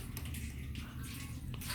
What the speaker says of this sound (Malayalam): നമ്മൾ ഈ വെള്ളം ഊറ്റി കളയുന്നതാണ്.